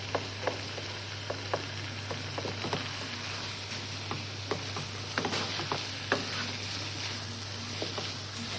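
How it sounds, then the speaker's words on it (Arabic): Onion frying in oil for couscous, a continuous close crackling sizzle with scattered small pops and light ticks, steady throughout over a faint low hum. "كنضيف الزيت اللي غادي تشقق ليا البصله"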